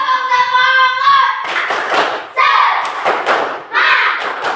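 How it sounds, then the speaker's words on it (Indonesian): A classroom group performs the tepuk semangat clapping chant, with loud bursts of clapping and thumps falling in rhythmic groups and voices chanting along. "Tepuk semangatnya mana? Tepuk semangat!"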